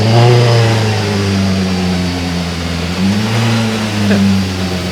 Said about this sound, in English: Warming up the car here.